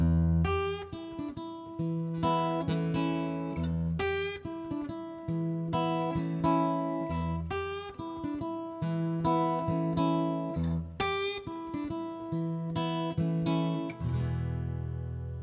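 An electric guitar plays a bluesy riff in E, with repeated low notes and bent higher phrases in a steady groove, heard alone without any talking.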